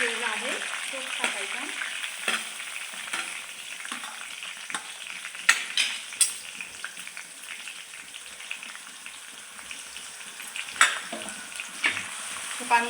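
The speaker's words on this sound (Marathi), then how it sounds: "छान फ्राय करून घ्यायचा" Food fries in a pan at home with a continuous sizzle, punctuated by sharp scraping and knocking from stirring, close by and without talk.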